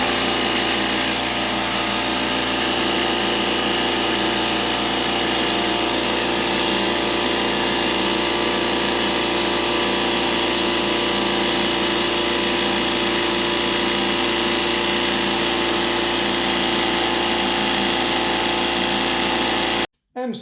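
Parkside PAK 20-Li B2 cordless air compressor running steadily and loudly for about twenty seconds as it inflates to 60 psi, with a constant motor drone and no talk, then cutting off abruptly at the end.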